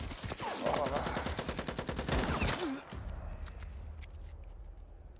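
Gunfire from the film Dacoit, a dense run of sharp rapid shots like a fusillade over music, then a fading tail.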